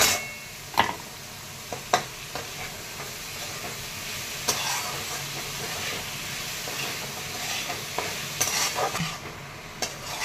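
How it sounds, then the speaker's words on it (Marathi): Chopped spring onions with salt are sautéed and stirred in a hot pan, giving a steady close sizzle broken by scattered scraping clicks of the spatula against the metal. "पण मला थोडीशी परतून घ्यायची।"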